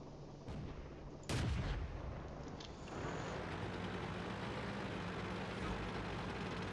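A Vickers Medium Mk.II tank cannon fires in World of Tanks, one sharp, loud blast followed by a rumbling tail. Vehicle engine noise drones steadily underneath, and a voice speaks nearby.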